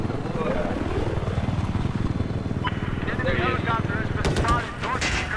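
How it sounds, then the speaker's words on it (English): A support helicopter in the video game Battlefield 4 drones with steady rotor thumping amid game gunfire and battle noise, loud and continuous throughout. "That's gotta be the support chopper"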